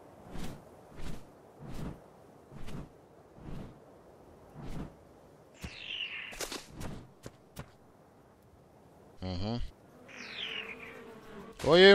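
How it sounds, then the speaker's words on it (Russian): Flies buzz in the video game ARK, a string of regular near buzzing passes followed by whooshes and clicks of game sounds, with brief faint voice-like bits near the end. "Ой-ой, мухи, мухи."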